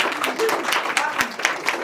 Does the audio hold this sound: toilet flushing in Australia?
no